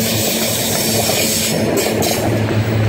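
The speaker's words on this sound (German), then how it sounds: "Und hier ist auch schon der Zug, der da lang fährt." A long train rolls past on railway tracks near Landsberg by Halle, a loud, steady, close rumble of wheels and cars that holds throughout without a break.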